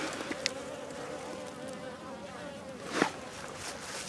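Bees buzz around old beehives beside abandoned mobile homes, a steady close hum with a louder buzz passing briefly, outdoors and otherwise quiet.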